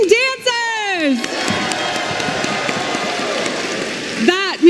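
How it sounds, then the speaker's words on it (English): A large crowd at a Pokémon World Championships opening cheers, whoops and claps, with loud shouted voices rising at the start and end over a steady bed of applause. "let's hear one more big round of applause for Kylo Moon and our amazing dancers"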